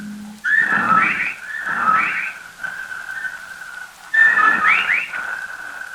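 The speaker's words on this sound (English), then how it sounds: "Listen, they whistle in time with his breathing now." Bird-like whistles as a 1945 radio drama sound effect, in a repeated rising pattern, three loud bursts separated by a held steady tone, close and clear with no talking.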